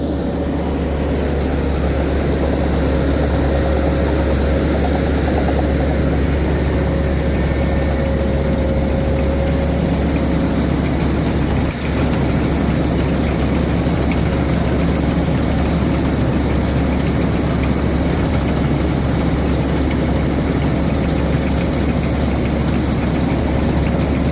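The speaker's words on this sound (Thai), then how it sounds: "ใช้เครื่องยนต์อีซูซูครับผม" An Isuzu-powered Tamco Z3000 rice combine harvester keeps running in a rice field, a loud, steady low engine roar with a faint whine, unbroken for the whole stretch apart from one brief knock near the middle.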